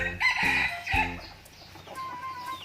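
Laying hens cluck in two loud bursts close by, followed by quieter fowl calls and a thin sustained tone trailing off.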